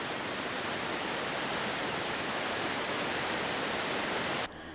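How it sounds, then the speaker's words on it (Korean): The 340 m Bad Gastein waterfall in Austria, flowing through the middle of the town, gives a loud, steady broadband roar of rushing water that holds unbroken and then drops slightly at the end. "오스트리아에서 가장 유명한 340m 높이의 바드 가슈타인 폭포다."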